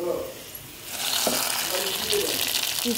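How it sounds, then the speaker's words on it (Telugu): Fried ingredients hit a pan of kattu pongal with a bright, close sizzle that swells after a quieter start and holds steady to the end. "ఫ్రై అయినవి ఈ కట్ పొంగల్లో వేసేసుకొని"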